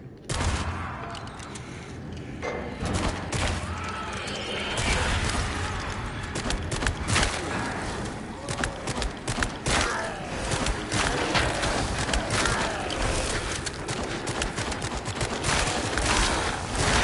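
Gunfire from the VR horror game The Dark Pictures: Switchback, dense repeated shots and mechanical clatter running continuously at a steady loud level, with some speech mixed in.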